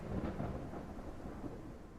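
Game weather preset of a thunderstorm: steady dense rain hiss with low rolling thunder rumbling underneath, continuous and fairly loud throughout, no voices.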